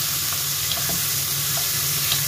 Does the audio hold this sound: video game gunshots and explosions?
no